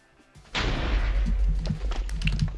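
A TNT explosion goes off in the video game TNT Tag: a sudden loud, deep boom after a quiet moment, trailing into a sustained rumbling roar with scattered clicks.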